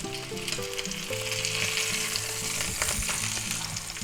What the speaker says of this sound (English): There's nothing like a pan with something in it and it's sizzling